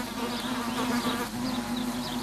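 Wasps buzz close at their paper nest, a steady droning hum from several insects with wings fanning continuously, loud and alone without any voices.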